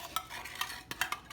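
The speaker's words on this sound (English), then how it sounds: "Let's mix it, mix it, mix it." Tater tot casserole ingredients stirred in a bowl, a short burst of soft scraping and squelching strokes with a few sharper clicks of a utensil, close and quiet with no talking.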